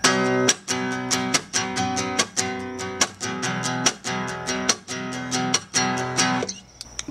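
Guitar strumming the verse rhythm, a steady pattern of repeated chord strums with crisp attacks and short decays, played close and alone for several bars.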